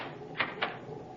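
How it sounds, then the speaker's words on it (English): A cabin door closes and locks in a 1938 radio drama: two sharp, close clicks about a fifth of a second apart over a steady background hiss. "You may lock the door now."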